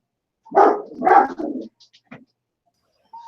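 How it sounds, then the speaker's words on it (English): Dogs bark excitedly indoors at a pizza delivery, several loud close barks in quick succession followed by a few short yips and whimpers, then quiet. "the dogs are going nuts"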